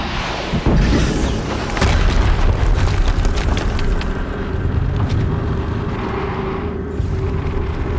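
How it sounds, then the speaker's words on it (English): Loud, heavy explosions in the video game Horizon Zero Dawn, a deep booming blast followed by sustained rumbling roar and debris, with a second surge of rumble partway through, filling the whole stretch. "Another explosion."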